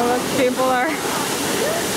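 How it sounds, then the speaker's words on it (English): Steady broadband rush of river water flowing past a watermill in Lithuania's Aukštaitija region, continuous and fairly loud, with people talking over it. "This is a river and a watermill, so people are enjoying."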